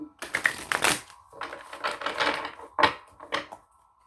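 Rapid riffling and snapping of a card deck being shuffled close up, in a few quick bursts with brief pauses between.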